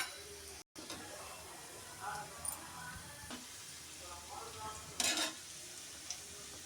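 Gulab jamun dumplings fry in oil over low heat, with a soft sizzle and stirring sounds running throughout, a few sharper utensil clinks, and a brief gap near the start.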